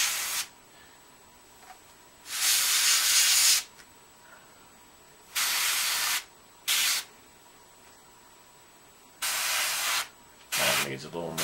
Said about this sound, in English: spray those roots with this color